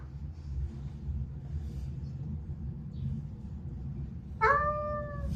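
A Ragdoll cat gives one clear, close meow near the end while soaking in a warm bath, after a stretch of low, quiet rumbling background.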